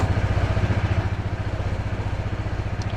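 A Honda PCX 160 scooter engine running at idle, with a steady, close, throbbing low putter and a rapid even pulse throughout.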